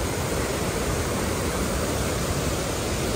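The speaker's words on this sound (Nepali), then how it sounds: "यो खोला यस्तो बगिरहेछ" A stream rushes at Agate Falls in Michigan, a loud, dense, unbroken roar of flowing water held steady from start to finish, with no talk.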